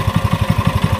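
A Japanese domestic diesel generator and air compressor engine runs close and loud, with a steady, throbbing idle of evenly spaced low pulses.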